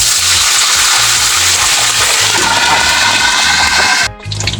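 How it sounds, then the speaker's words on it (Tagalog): Water sprinkled into a hot pan of frying adobo sitaw, a loud, continuous sizzling hiss that cuts off abruptly near the end, with a rhythmic low rumble underneath throughout. "Buksan mga kasang at iwiskan po natin ang konting tubig."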